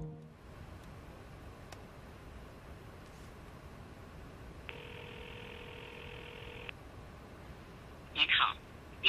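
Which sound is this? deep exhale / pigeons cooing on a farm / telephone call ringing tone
telephone call ringing tone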